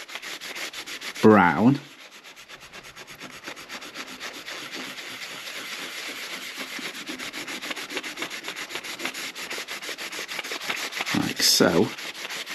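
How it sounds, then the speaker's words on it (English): A marine boat dashboard is gently rubbed down by hand, giving a steady, soft scratchy sanding sound throughout with a couple of brief louder scrapes, close by and with a little quiet speech. "So we're going to gently rub."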